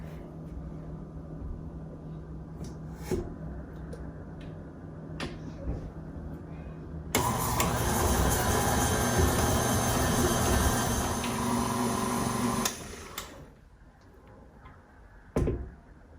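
An electric mixer beating chocolate cupcake batter switches on partway through and whirs loudly for about five seconds before stopping, with scattered kitchen clicks and knocks before and after.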